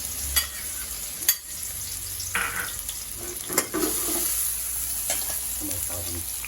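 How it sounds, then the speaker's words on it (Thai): Chili and garlic sizzling in a hot pan, a steady frying crackle punctuated by a few sharp clanks of a utensil stirring against the pan; no voices. "ใส่พริกกระเทียมที่เราเตรียมไว้"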